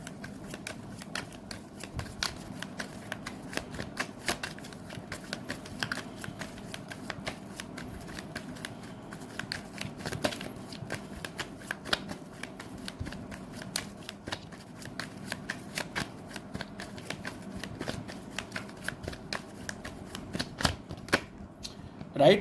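Tarot cards shuffled continuously for over twenty seconds, a steady dense riffle of soft papery flicks and slaps close to the microphone, with no voices.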